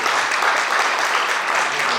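Sustained applause from an audience at a Brazilian literary academy ceremony, loud, dense clapping that stays even throughout.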